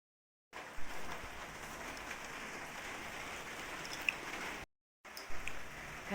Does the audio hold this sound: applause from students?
no